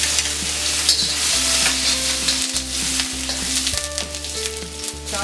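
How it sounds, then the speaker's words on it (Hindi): Chopped garlic sizzles loudly in hot oil in an iron kadhai, with a steady crackling hiss and occasional stirring scrapes throughout, no talking. "इसमें हम डालेंगे लहसुन चॉप किया हुआ"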